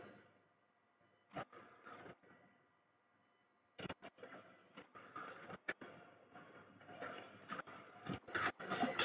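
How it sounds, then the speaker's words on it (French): A photo printer starts up and prints, with whirring feed noises and sharp mechanical clacks that come in bursts after a quiet start and grow busier toward the end; nobody speaks. "Là, automatiquement, mon imprimante ici s'est lancée."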